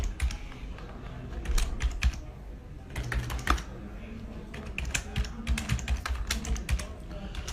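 Someone types an email address into an online tax form on a computer keyboard, the keys clicking close and rapid in irregular bursts with short pauses, while a person talks quietly in the background.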